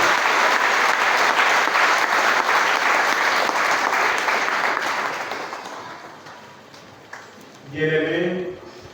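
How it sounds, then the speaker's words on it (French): A church congregation claps and cheers loudly and steadily, then the applause fades out. A voice follows briefly at the end. "Acclamons le Seigneur. Acclamons très fort notre Dieu."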